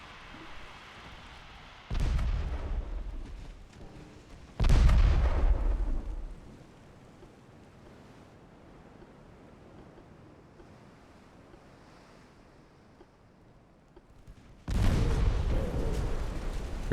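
Torpedoes striking a warship in the naval game Ultimate Admiral: Dreadnoughts, three heavy booming impacts spaced several seconds apart over a low rumble of sea and wind, deep and loud.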